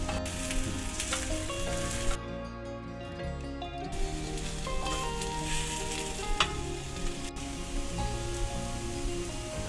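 Spinach and lentil dal palak appe cook in a covered appe pan over a low to medium flame, giving a steady, continuous sizzle with a tonal background running throughout.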